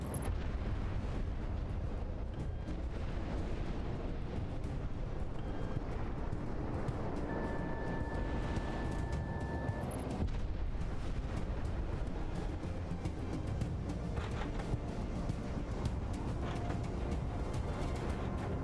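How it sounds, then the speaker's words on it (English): Bombs exploding in the flight-combat video game Project Wingman, heard as a continuous deep rumbling roar that stays loud and even throughout, blended with a droning aircraft-like background and no talk. "Bombs away."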